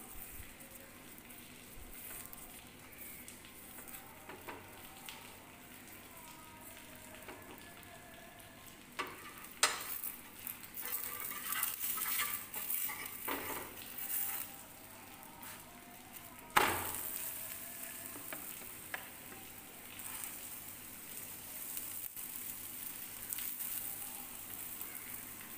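Punjabi-style aloo paratha fries in ghee on a pan after being flipped, giving a steady, soft crackling sizzle throughout, with occasional louder scraping and clatter from the pan.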